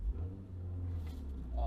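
A BMW 435i xDrive engine and exhaust rumble low and deep in a steady rev, heard faintly from inside the car while people talk.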